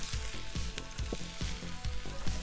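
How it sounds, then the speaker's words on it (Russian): Sliced bell pepper sizzles steadily in a hot pan, a constant crackle broken by regular scraping stirs about every half second. "нарезанный перец обжариваем"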